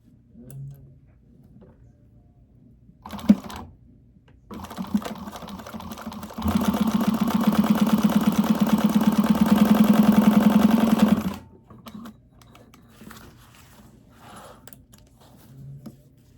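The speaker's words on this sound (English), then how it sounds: "you're going to stitch that to the zipper" A sewing machine stitches a bag lining to a zipper, a few short starts and then a steady, even run of rapid needle clatter for about five seconds, with faint handling noises before and after and no talking.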